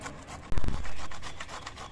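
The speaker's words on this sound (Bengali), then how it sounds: "আমার সবগুলো আনারসের পিসি ঘষে নেওয়া হয়ে গেছে" Pieces of pineapple are rubbed against a grater, giving a short, sharp rasping scrape followed by a fainter lingering scratch, close and without talk.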